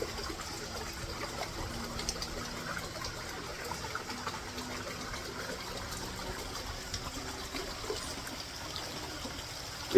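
A small stream flows over stones, a soft, continuous trickle and babble of water heard alone at low level without any voices.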